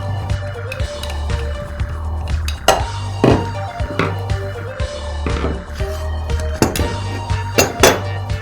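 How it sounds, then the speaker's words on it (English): Metal parts of a Makita angle grinder being handled as its side handle and guard come off: irregular close clinks and knocks of metal over a low steady hum, with a few sharper taps near the end. "I'll begin by removing the side handle and the guard."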